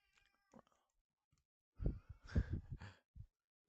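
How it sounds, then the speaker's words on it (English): A cat meows nearby in a few short, drawn-out cries clustered together, preceded by faint small noises in an otherwise quiet room. "The cat sounds like he wants to go."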